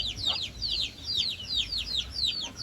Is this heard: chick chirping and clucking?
yes